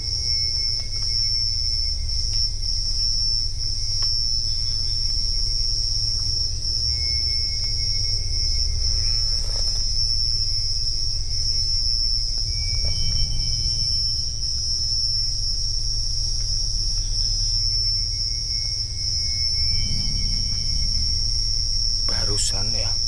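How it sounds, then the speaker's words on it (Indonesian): Crickets chirp at night along a dark pathway with a constant loud high-pitched drone that runs unbroken throughout, plus occasional faint clicks, rustles and a low background rumble. "Dicampur suara jangkrik ya jangkrik."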